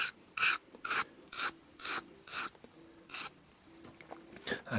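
Knife edge being smoothed on a sharpening tool to remove rough spots, a series of close, dry rasping strokes in an even rhythm, about nine passes with short pauses between.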